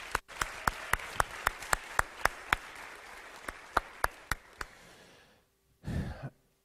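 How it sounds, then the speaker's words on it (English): Scattered claps from an audience at a high school talk fall in a loose, even rhythm, roughly a dozen crisp hits that thin out and stop, followed by a brief breathy sound close to the microphone. "they deserve a big round of applause for all their work and leadership"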